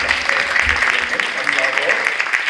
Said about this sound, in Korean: 우리 박수 한번 쳐드리겠습니다